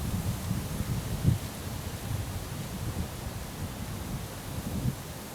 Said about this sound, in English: I got some wind blowing at me